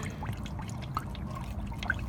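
Warm engine oil drains from a 2014 VW Passat 2.5 during an oil change, a steady, continuous liquid trickle and pour with a couple of faint drip accents, fairly quiet and close, with no talking.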